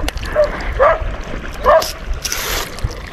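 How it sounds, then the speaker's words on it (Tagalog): Dogs bark a few times at a moderate distance near a fishing spot, short sharp yelps in two or three bursts over faint background noise, with no talk. "Ang ingay ng mga aso."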